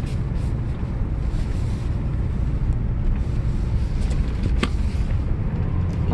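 A Renault Espace IV with automatic transmission engine braking in third gear, heard as a steady loud low rumble with heavy wind buffeting, no voices.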